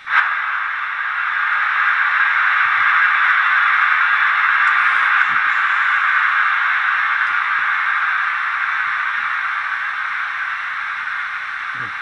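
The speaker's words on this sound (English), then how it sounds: "a safety valve" Steady hissing rush of steam from a safety valve on a Bachmann A1 model locomotive's sound decoder, continuous and fairly loud for the whole stretch with a sharp onset and no pauses.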